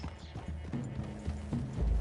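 Horse hooves clip-clop at a steady walking pace in the Red Dead Redemption 2 video game, close and moderately loud over low rumbling ambience.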